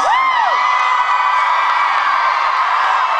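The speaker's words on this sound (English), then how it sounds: "you don't have to cheer for Hank" A live show audience cheering and whooping for Hank at a Fault in Our Stars tour event in Nashville, loud, close and sustained, with high shrieks standing out at the start before settling into a broad roar.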